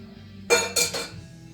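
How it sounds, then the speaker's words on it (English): A whisk striking the side of a bowl while mixing eggnog, three short close metallic clinks against a quiet kitchen. "Go ahead and whisk it."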